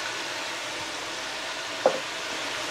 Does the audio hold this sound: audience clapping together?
no